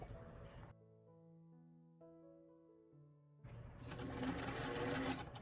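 A sewing machine stitches a neck piece onto a fabric dress-form doll mannequin, with a close, steady whirring run at the start, a quiet pause, then a longer, louder continuous stitching stretch.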